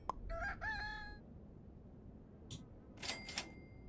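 A rooster crows in the Super Auto Pets game, a bright cock-a-doodle-doo followed after a pause by a short cluck and a sharper second crow, all over quiet background hiss.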